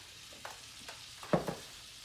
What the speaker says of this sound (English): with a whisk to get everything stirred.